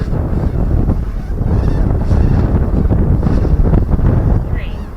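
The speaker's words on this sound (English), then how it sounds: "the wind's coming actually behind me" Strong wind buffets the microphone outdoors, a loud, constant rushing roar throughout with gusty swells, while a model boat is sailed on water nearby.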